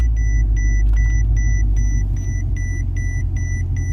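A Mercedes-Benz car with its key turned to the on position, giving a regular series of short electronic chime beeps over a deep, steady idling rumble inside the cabin.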